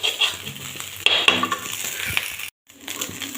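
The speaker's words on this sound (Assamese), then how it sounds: "এনেকৈ অলপমান টাইম লাৰি থাকিব লাগিব" A spatula scrapes and clinks against a pan while food fries in an Assamese home recipe, with sharp metallic taps over a soft sizzle and a brief silent gap near the end.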